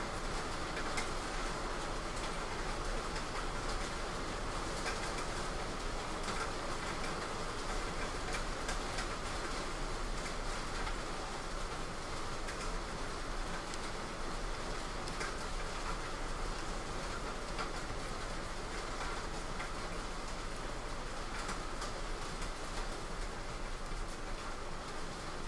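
Heavy storm rain pours steadily outside, a dense, constant hiss with low rumble that stays loud and unbroken throughout, with no voices.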